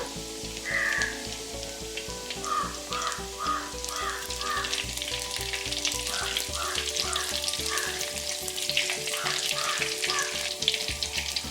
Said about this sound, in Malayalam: ചുവന്നുള്ളി മൂത്ത് തുടങ്ങിയിട്ടുണ്ട്.